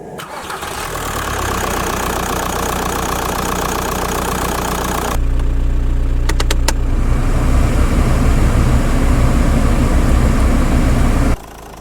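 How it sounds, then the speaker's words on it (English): A Skoda Fabia Mk1 with the 1.9 PD diesel engine cranks over and fires, then settles into a steady, loud, close diesel idle with a brief change partway through before cutting off near the end. "Rest the tank away from moving parts and start the engine."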